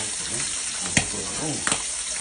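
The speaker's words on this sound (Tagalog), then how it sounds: "Medyo lumayo ako sa kawali kasi nagpuputukan" Milkfish (bangus) steak frying in a pan: a steady hiss of hot oil with two sharp pops spitting up near the middle, while a faint voice murmurs underneath.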